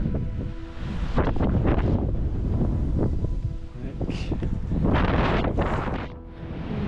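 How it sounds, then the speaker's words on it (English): Strong wind whips across an exposed, muddy Te Araroa trail, roaring loudly and gusting into the microphone throughout, with a person's voice faintly mixed in amid the buffeting. "The wind is absolutely whipping here."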